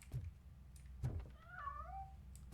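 A cat meows once with a rising, bending tone in the video game RoboCop: Rogue City, set against low rumbling game ambience and a few dull thuds.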